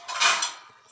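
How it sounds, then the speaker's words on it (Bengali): A lid set down on a cooking pot of taro leaves simmering with mango and a little ghee over low heat gives a single short, bright metallic clank that rings briefly and fades. "এবার আমি একটা ঢাকা দিয়ে দেব"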